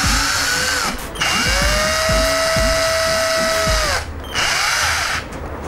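A Cheston 12V cordless drill drives a screw tight, its motor whining in loud bursts while the clutch slips with rapid ratcheting clicks, pausing briefly twice.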